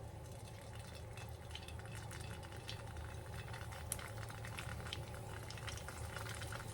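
Crab rangoon sizzling in hot grease in a skillet, a steady, faint bubbling hiss with small crackles over a low hum, heard close with no talk.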